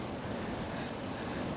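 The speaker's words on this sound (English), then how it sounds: "It's very windy. The wind's coming through the wall a bit as well." Strong wind blowing at a mountain summit camp on Slieve Commedagh, heard from inside a tent: a steady, roaring broadband rush with gusty buffeting against the fabric, close and continuous, with no talking.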